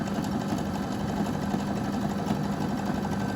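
Baby Lock Jubilant sewing machine overcasting a fabric edge, a fast, even mechanical whirr of needle strokes running steadily and close up, no voices.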